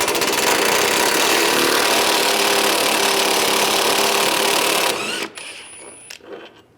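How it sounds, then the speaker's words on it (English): A 15mm socket on a power tool spins out the rear engine mount bolt of a 2013-2016 Dodge Dart 2.4L four-cylinder, a loud steady whirring drone for about five seconds, then it stops and faint clinks follow. "Using a 15mm socket, take this bolt out."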